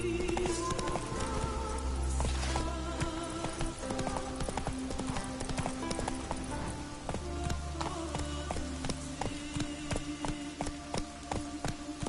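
A horse gallops with steady, rapid hoof clip-clop in the video game The Witcher 3, loud and close over rain and dense game ambience.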